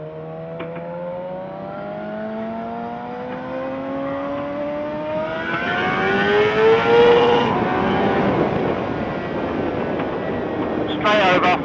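A Suzuki GSX-R 750 sportbike engine drones and rises in pitch while riding, steady and fairly close, with wind rush and a rider's voice talking over it.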